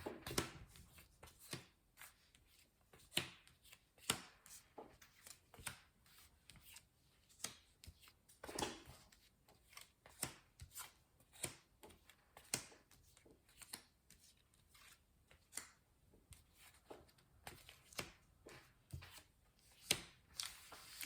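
A deck of tarot cards is shuffled by hand in a quiet room, giving a long series of soft, crisp riffling and slapping bursts in an irregular rhythm, close and fairly faint.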